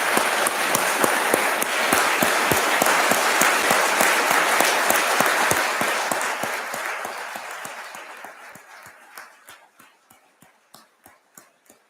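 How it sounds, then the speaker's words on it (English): Audience at a city Memorial Day ceremony applauding veterans who stand, loud sustained clapping that gradually thins out into a few scattered, isolated claps at the end. "Let's give them a round of applause as well."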